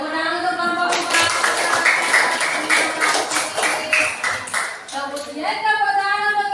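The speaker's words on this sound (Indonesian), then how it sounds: "tepuk tangan untuk kelompok 4" A class group clapping for group 4 after a discussion, a run of crisp handclaps in steady rhythm, fairly close, with tonal chime-like tones and talk around them.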